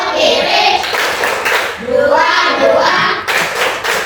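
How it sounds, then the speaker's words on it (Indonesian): Sixth-grade primary school students in an Indonesian classroom clap a rhythmic "tepuk jempol" thumb-clap routine together, dense overlapping claps mixed with children's voices and chatter throughout. "Mari kita beri tepuk jempol."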